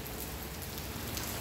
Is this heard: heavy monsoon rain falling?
yes